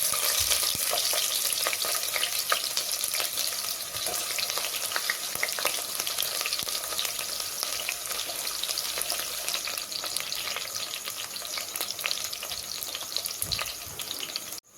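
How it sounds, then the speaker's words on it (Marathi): Onions frying in hot oil for veg biryani give a dense, continuous loud sizzle with crackling and occasional stirring, close up, cutting off abruptly at the end. "यात आता आपण कांदा तळून घेऊ"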